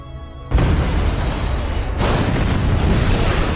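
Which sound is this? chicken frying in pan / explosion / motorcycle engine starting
explosion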